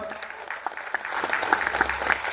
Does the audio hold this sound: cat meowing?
no